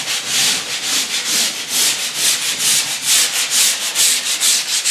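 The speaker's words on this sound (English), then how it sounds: "So we're going to lightly sand it." Wood being lightly sanded by hand between finish coats to knock down raised grain, a steady rhythmic back-and-forth rasp of even strokes, close and continuous with no talk.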